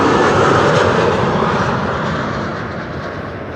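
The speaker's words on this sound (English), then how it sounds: "The mic will pick up the sound of KLM flight 1030 landing" A KLM Boeing 737-800 arriving from Manchester lands at Amsterdam Schiphol, its engines a loud, steady broadband roar that slowly eases and fades over a few seconds, with no voices.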